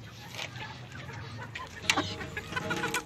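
Chickens and a rooster in a backyard coop, steady clucking close by, with sharper calls building toward the end over a constant low hum.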